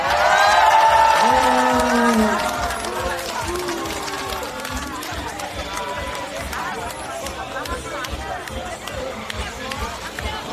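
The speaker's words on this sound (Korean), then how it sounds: "지나갈 때까지 좀 기다리면서 박수 한번 쳐줍시다 여러분." Supporters at an outdoor Korean election campaign rally in Seoul's Dongjak district clap and murmur as a crowd, loud at first and then settling into steady background hubbub, with a voice talking over the crowd.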